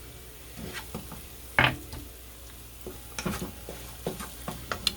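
Sauce cooking in a pan for meatballs and pasta, with a faint steady sizzle under intermittent stirring clinks and scrapes, one sharper knock midway; a single brief spoken word.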